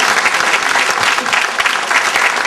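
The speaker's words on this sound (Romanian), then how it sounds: "vă rog să mai oferiți niște aplauze" Audience applause fills a hall at a Dobrogea folk heritage event, a loud, steady wash of many hands clapping throughout without a break.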